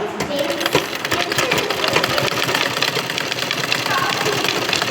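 A sewing machine stitches a seam with a steady, loud, rapid mechanical whirring and rattling chatter that runs without a break from start to finish.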